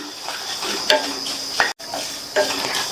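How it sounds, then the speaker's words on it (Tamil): Thick flattened rice (aval) dry-roasting in a kadai over a medium flame, with a soft continuous rustle and hiss broken by several scraping stirs of a spoon against the pan and one brief dropout. "இதையும் மிதமான தீயில வச்சு ஒரு 2 நிமிஷத்துக்கு வறுத்துக்கலாம்."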